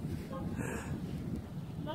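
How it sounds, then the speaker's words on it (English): Winter snowstorm wind gusts steadily across a snowy neighborhood yard, a broad low roar buffeting the microphone without letup for the whole stretch, with no voices over it. "the wind is blowing"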